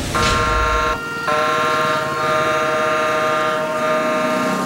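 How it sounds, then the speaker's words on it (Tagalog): A fire truck's loud, sustained wailing siren with steady tonal harmonics and a brief dip near the one-second mark, heard close and without speech. "Ang tunog ng sirena ng truck ng mga bomberong ito"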